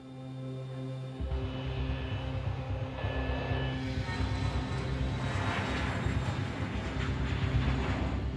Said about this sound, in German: Die Maschine startet pünktlich und die Passagiere lehnen sich entspannt zurück.